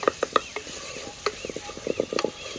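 Quick crackling sizzles and scraping stirs of a spice tempering with turmeric and red chili powder in a hot pan for dal, coming in short irregular bursts, close and fairly loud with no talking.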